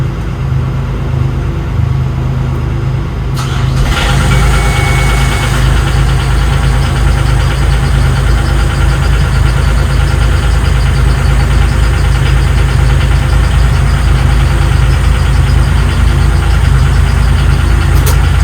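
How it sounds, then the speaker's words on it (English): A sailboat's two inboard engines fire up one after the other, then settle into a loud, steady rumbling idle close by with a constant vibrating drone. "both engines running"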